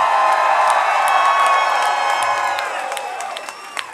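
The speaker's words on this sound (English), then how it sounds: "A round of applause." An audience at an acoustic rock concert in an entertainment center cheers and whoops loudly, with shouts and clapping mixed into a dense crowd roar that slowly fades.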